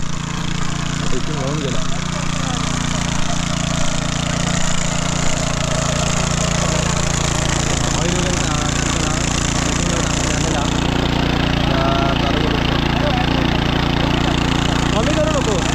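A farm tractor engine runs steadily and close throughout, a continuous low mechanical drone on a Konkan rice field, with people talking over it.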